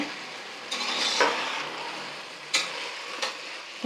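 Black field beans roasting in a pan over a low flame for a village-style curry, with soft scraping stirs and light sizzling, plus a few sharper clinks of the stirring spoon against the pan.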